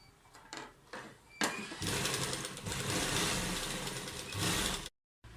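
A sewing machine stitches fabric right alongside buckram while a kurta neck design is made. A few short bursts come first, then one continuous whirring run of about three seconds, close and steady, before it stops.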